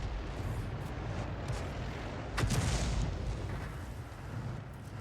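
A 105 leFH18B2 artillery gun fires in a tank video game, one sharp booming blast cracking out midway through a rumbling battlefield din, with smaller distant thuds around it.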